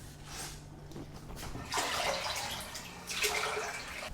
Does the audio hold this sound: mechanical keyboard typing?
no